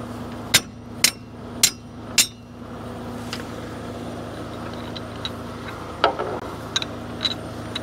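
A hammer strikes metal rigging hardware while it is tightened during a container move: four sharp, ringing blows in quick succession, then lighter taps and clinks over a low engine hum.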